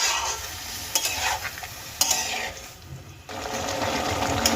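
Raw green tomato slices fry in a pan and get stirred, giving a steady close sizzle with repeated scraping strokes and a brief quieter pause, no talking.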